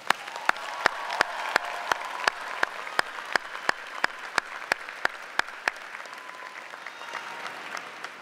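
Sparse, evenly spaced single claps ring out at a university commencement, one sharp clap roughly every third of a second over a faint crowd murmur, fading after about six seconds.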